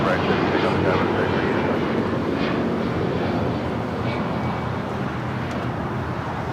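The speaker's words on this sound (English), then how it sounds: "That Dreamliner just coming in from Tokyo." A Boeing 787 Dreamliner arriving at LAX from Tokyo Haneda gives off a broad, steady jet roar that slowly fades, heard from a distance outdoors.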